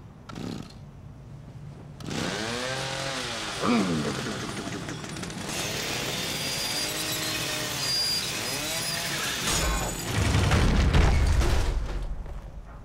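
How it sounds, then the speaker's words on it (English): A chainsaw in the horror video game The Evil Within revs loudly and keeps rising and falling in pitch for several seconds, with heavy booming impacts near the end. "It's a fucking chainsaw."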